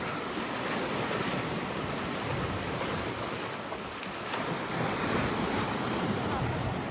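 Waves break on the sea shore at Budva, Montenegro, at sunset, a steady loud wash of surf with heavy wind rumble against the microphone.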